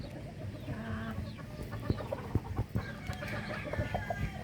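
Mitrablue Speeder grey chickens cluck repeatedly nearby, a busy overlapping chorus of short clucks and calls over a low background murmur, with no speech.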